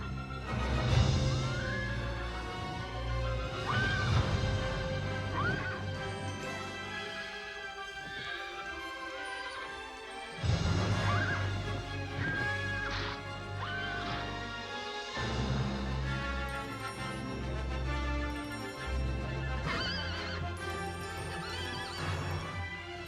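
A winged horse neighs and whinnies loudly in a film scene, with repeated shrill calls and clip-clopping hooves as it bucks, set against a dense, continuous backdrop of orchestral-like sound, no voices.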